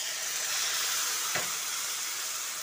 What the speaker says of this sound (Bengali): এবার মশলাটা যাতে পুড়ে না যায় সেজন্য অল্প একটু জল দিয়ে দিচ্ছি।